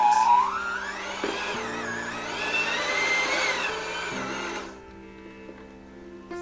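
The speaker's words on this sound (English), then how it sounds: "Not that it's beating very well with my mixer." Weak electric hand mixer beating pizza pop dough, a continuous whining motor drone that shifts pitch as it works, then cuts off, leaving a quiet hum.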